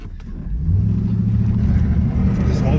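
A car doing a burnout on new Elements wheels, a close, loud low engine roar building and holding steady, with people talking over it.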